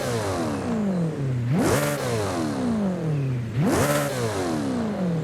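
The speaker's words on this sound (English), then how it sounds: "a very nice and raw V8 engine sound" A McLaren's V8 engine in Forza Horizon 5 revs up sharply twice, each climb followed by a long descending whine as it drops through the gears, loud and close, no speech.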